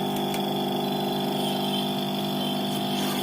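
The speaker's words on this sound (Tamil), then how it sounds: "இது வச்சுட்டு இப்போ ரன் பண்ணி எடுத்தீங்கன்னா உங்களுக்கு மோட்டர் ஓடும்." A refrigerator compressor motor runs on a direct 230V AC supply with no relay, giving a steady mechanical hum with strong tonal lines and vibration that stays unchanged throughout.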